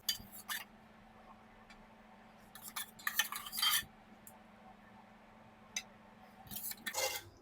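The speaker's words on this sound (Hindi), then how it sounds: "अब मैं कीमा मटर की सारी ग्रेवी को अच्छी तरह से पूरे पैंदे में फैला दूंगी" Keema matar gravy being spread across the bottom of a pot with a metal spoon while making biryani, heard as sparse close scrapes and clinks in short bursts with quiet pauses between.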